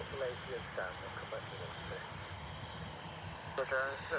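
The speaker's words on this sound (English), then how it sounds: "it's a BA 747 and Concorde" A constant low jet-engine drone carries on in the background at Manchester Airport, where a British Airways 747 and Concorde are on the field. People talk over the drone for most of the time.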